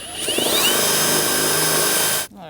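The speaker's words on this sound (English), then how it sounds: "we're going to drill out the head of the rivet" A power drill whines steadily at close range as it drills out a metal rivet head on a 2000-2007 Ford Taurus door, then cuts off abruptly near the end.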